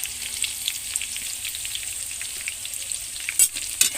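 Onions frying in oil in a hot pan for beef biryani, giving a steady close crackle with a couple of sharper pops near the end and no talking.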